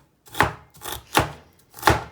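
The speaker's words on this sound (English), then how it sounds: "chop it as small as possible and mince it like this" Ginger being minced with a knife on a cutting board, four distinct, sharp chopping strikes at an even pace, close and clear against silence.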